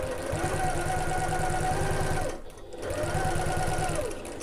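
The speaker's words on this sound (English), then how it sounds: "I'm going to pop this under my presser foot, and we're going to back stitch at the start and the end." A sewing machine stitches a seam with a steady, close mechanical whir, pausing briefly midway before resuming at the same even pace.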